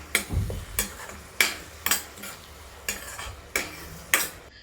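Tomato paste with onions frying in oil, stirred with a utensil: seven or eight sharp scraping strokes land at a fairly regular rhythm over a low background sizzle, close and clear, with no speech.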